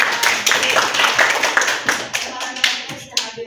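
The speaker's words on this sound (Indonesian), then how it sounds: "Tepuk tangan untuk" A class of students clapping hands together in a school classroom, a burst of dense, irregular claps lasting a few seconds, close and fairly loud, with some chatter mixed in.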